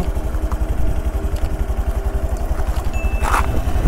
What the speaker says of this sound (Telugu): సౌండ్ కూడా చాలా ఎక్కువ రావడం లేదు. చూస్తున్నారు కదా మీరు, చూడండి. ఇంజన్ కూడా చాలా స్మూత్గా ఉంది నిజంగా.